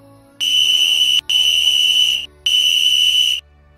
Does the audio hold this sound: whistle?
yes